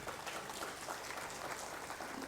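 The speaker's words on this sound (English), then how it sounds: "A round of applause, please" An audience claps together at a technical symposium, a dense, even patter of many hands that carries on for the whole stretch. It sounds faint and distant, as if picked up from across the hall.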